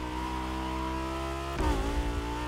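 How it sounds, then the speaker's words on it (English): A Lamborghini V10 in the racing game The Crew Motorfest holds a steady high-pitched engine tone, then briefly swells louder as it revs, with no talk over it. "It just sounds like an actual V10."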